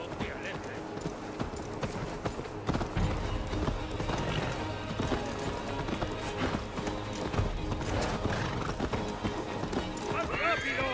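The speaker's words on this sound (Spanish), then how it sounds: "¡Cabalga como Sleipnir! Tu caballo es lento y su jinete está borracho." Horse galloping in Assassin's Creed Valhalla, a steady rapid clip-clop of hooves throughout with occasional whinnies, under continuous talking.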